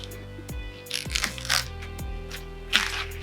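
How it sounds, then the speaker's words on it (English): Tape is peeled off a wooden DIY side table top in short tugs, giving a series of close crackling rips and small snaps with sharp bursts at the start of each pull. "let's try and pull this tape off"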